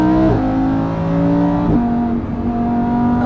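A Lamborghini Huracan EVO in sport mode accelerates hard, its loud engine climbing steadily in pitch, dropping briefly at two gear changes and then rising again, heard close from inside the car with no talking.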